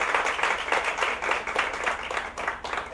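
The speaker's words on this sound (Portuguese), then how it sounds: "Uma salva de palmas, por favor," Applause for a tutor at a university lecture event, steady clapping from an audience sustained for the whole stretch at moderate level with no voices over it.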